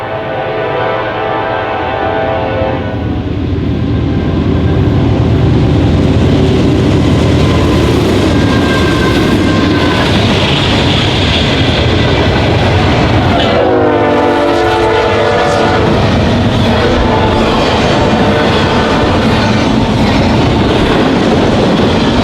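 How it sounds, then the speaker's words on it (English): Norfolk Southern westbound manifest freight train passing at speed, a loud continuous roar of wheels and cars close by, with the locomotive's multi-tone horn blaring midway through. "Westbound 15Q is a daily Bellevue, Ohio to Elkhart, Indiana manifest train"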